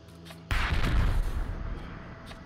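A frag grenade goes off in Predator: Hunting Grounds, a sudden loud blast that erupts from low background noise and rolls off over about a second into a fading rumble.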